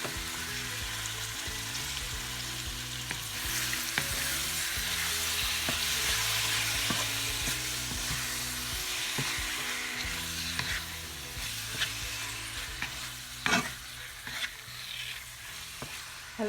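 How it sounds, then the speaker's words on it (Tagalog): Pork pieces sautéed and stirred in a pan for Filipino pork afritada, a steady sizzle with repeated scrapes and clicks of the spoon against the pan, close and alone without any talking. "Halo-haloin ko muna to guys hanggang sa maging puti na yung karne."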